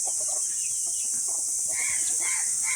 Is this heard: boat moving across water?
no